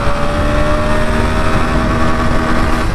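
A Bajaj Pulsar NS 125 motorcycle held at full throttle in third gear, its engine droning steady and loud as it bounces off the rev limiter, a continuous close buzzing roar with no voices.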